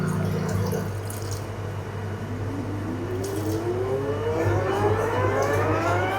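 A mixer grinder runs steadily, grinding mint leaves with a little water, its motor hum rising in pitch as the blades spin up, loud and close throughout with no talking.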